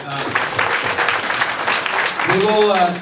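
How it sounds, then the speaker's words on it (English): An audience applauds at a YouTube creators camp in Cebu, the clapping layered with cheers and voices toward the end. "I wanted to give Gerard a big round of applause."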